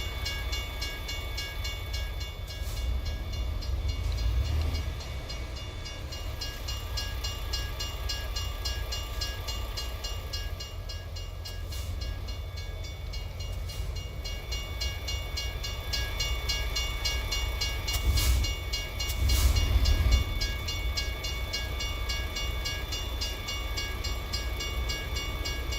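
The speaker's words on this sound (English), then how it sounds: "we gotta wait for the tram to pass by" A tram rolls past in a truck-driving video game, a steady rumbling wash with a couple of brief louder swells near the end, heard alone with no talking.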